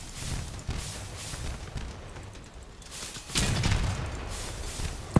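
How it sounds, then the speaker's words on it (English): An explosion in the Crossout vehicle combat game, involving a Harpy cabin and fused Wasp missiles, rings out as loud booming bursts over continuous gunfire-like battle noise, with a heavier blast near the middle and more impacts afterward. "Beautiful explosion. I just love that sound, that pow."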